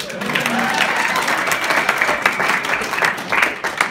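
An audience bursts into applause, a thick, lively patter of many hands clapping at steady volume, with a few scattered voices mixed in toward the end.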